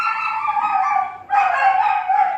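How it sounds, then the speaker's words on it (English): A dog's drawn-out, howling bark, two long sustained calls close by, with a brief break between them. "Please just ignore that dog barking"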